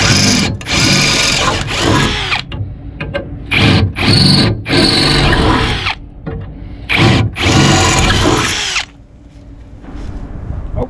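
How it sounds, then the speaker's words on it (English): A power drill boring plug weld holes in steel body panels of a 1957 Chevy wagon during rocker and floor rebuilding, loud whining bursts of several seconds broken by short pauses, close up with no talk. "I got all my plug weld holes drilled"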